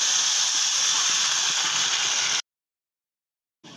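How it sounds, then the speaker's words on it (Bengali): Water pours into a pan of fried tomato and spices, giving a loud, steady sizzling hiss that cuts off abruptly, followed by silence and then a brief return of noise. "এখন আমি জল দিয়ে দেবো।"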